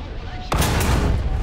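A tank cannon in a video game fires one sharp, loud shot halfway through, and a heavy rumbling tail follows it.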